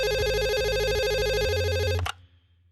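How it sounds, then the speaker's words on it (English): A phone rings for a call with a steady warbling electronic ring tone, loud and close, running continuously for about two seconds before cutting off abruptly. "Let's dial him up real quickly and give Andor the phone call that he deserves"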